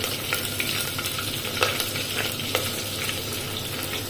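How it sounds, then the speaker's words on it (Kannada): Chopped green chili and half an onion fry in a pan for a rasam or sambar, giving a steady close sizzle broken by a few louder crackles and pops, with no voices. "ಕಟ್ ಮಾಡಿ ಇಟ್ಟುಕೊಂಡಂಥ ಒಂದು ಕಾಯಿ ಮೆಣಸನ್ನು ಹಾಕ್ತಾ ಇದ್ದೇನೆ ಒಂದು ಅರ್ಧ ಈರುಳ್ಳಿಯನ್ನು ಕೂಡ ಹಾಕ್ತಾ ಇದ್ದೇನೆ"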